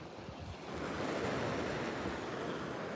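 Sea waves breaking on the shore at Nerja, a steady broad rush of surf that swells louder after the first second and holds, close and continuous with no voices.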